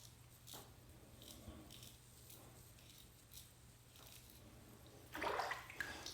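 A safety razor is rinsed under running water, with faint splashing and trickling through most of the clip before a louder burst of water near the end.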